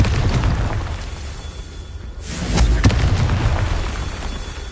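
Confringo fire-blast spell exploding in the Hogwarts Legacy video game, a loud booming burst with a rushing crackle that swells midway and lingers over a steady background rumble.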